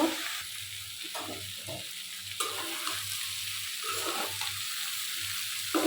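Potato and eggplant being fried in a pan for salted hilsa curry, a steady moderate sizzle with faint repeated low stirring thumps throughout, close and without talk.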